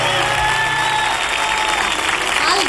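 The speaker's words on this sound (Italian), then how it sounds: "Quanti applausi" Audience applause at a Roman song festival in 1993 greeting a singer as he comes on, dense steady clapping throughout with a faint tonal hum underneath.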